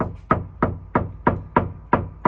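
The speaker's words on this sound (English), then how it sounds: "Hear that knock? Sounds vacant." Seven firm, evenly spaced knocks on a house door, each a sharp close thud with a short ring, alone with no talking.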